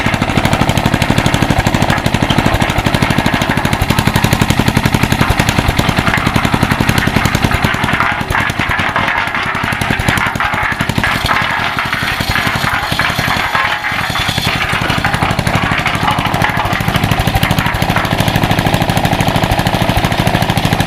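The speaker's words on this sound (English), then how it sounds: "The pulley is still kind of rusty, so it keeps grabbing the belt." An off-grid cement mixer with a rusty pulley grabbing its belt runs close and loud as a continuous rattling, rapid knocking machine drone for about twenty seconds, with no talking.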